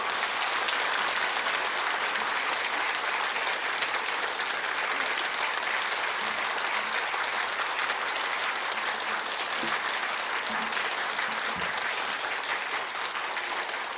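Sustained applause from a church congregation during a Sunday worship service, steady dense clapping that fills the whole stretch at an even level.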